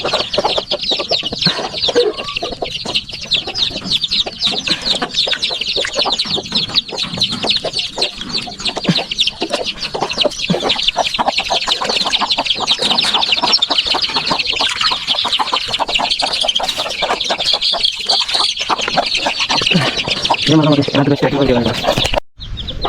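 Dense, continuous clucking from a flock of chickens, loud and close, with constant overlapping calls and occasional voices mixed in.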